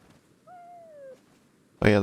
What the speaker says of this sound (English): Sometimes the birds have items.